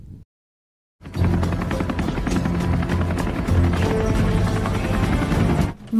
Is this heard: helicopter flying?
yes